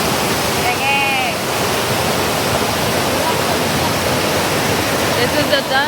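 Broadband rushing water of Dunn's River Falls in Jamaica, a steady loud roar of cascading river water filling the whole clip, with faint brief voices and whistle-like tones mixed in.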